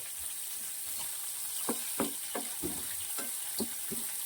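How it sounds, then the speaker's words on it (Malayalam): Chicken pieces frying in a pan for a Kerala-style chicken curry, with a steady close sizzle and intermittent stirring scrapes roughly every half second. "ഒരു അല്പം കൂടെ ഫ്രൈ ആകണം"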